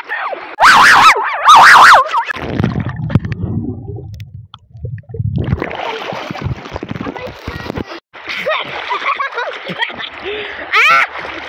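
Seawater splashes as people bathe at Umluj beach on the Red Sea, with loud bursts of churning water and muffled thumps up close, broken by short gaps.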